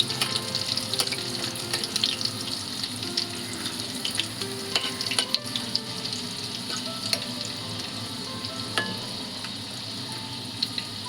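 Crushed garlic cloves and cinnamon sticks fry in oil in a pan for a Konkani-style chicken liver masala, a continuous close hiss and sizzle with faint clinks and stirring, no talking.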